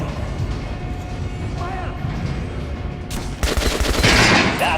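Gunfire aimed at an armored training dummy in the video game Metro Last Light. A low rumbling background breaks near the end into a couple of sharp, loud bursts of shots.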